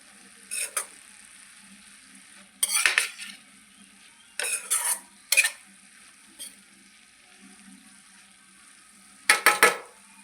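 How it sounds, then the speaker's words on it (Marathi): Peanut powder and coriander stirred into cooked cluster beans in a pan, heard as several short bursts of spoon scraping and clatter separated by quiet gaps, close and moderately loud with no talk. "त्यामध्ये मी शेंगदाण्याचा कूट आणि थोडीशी कोथिंबीर टाकून घेणार आहे आणि मिक्स करून घेणार आहे"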